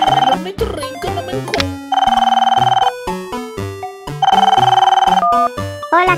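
Telephone ringtone in a cartoon-style Christmas episode, bright repeating electronic tones in bursts, loud and close, with no one speaking over the ringing.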